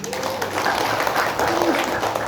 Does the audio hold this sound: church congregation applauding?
yes